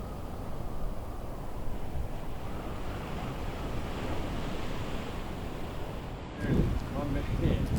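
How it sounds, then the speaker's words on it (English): Wind buffets the microphone in a steady low rumble, with a stronger gust near the end. "It's a little bit windy"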